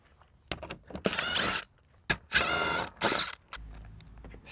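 A ratchet works loose the 8mm bolts on the lower cover beneath a Mercedes ML350 with a coolant leak: bursts of rapid clicking come close by, separated by short pauses, with light metallic handling between them.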